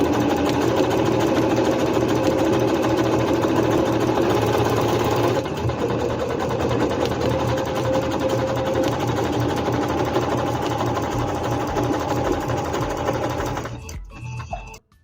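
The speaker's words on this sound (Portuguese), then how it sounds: "Posiciono o tecido novamente na máquina, abaixo a sapatilha e, sem fazer o arremate, faço a segunda costura." A Singer C5605 electronic sewing machine runs steadily as it stitches a second seam on fabric, a loud continuous whirring motor with a slight pitch shift midway, stopping abruptly near the end.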